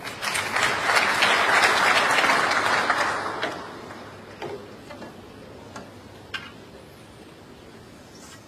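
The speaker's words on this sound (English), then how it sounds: "The applause there greets another result." Crowd at a professional snooker match applauds in a strong burst that fades after a few seconds, leaving a quiet arena with scattered faint clicks and taps.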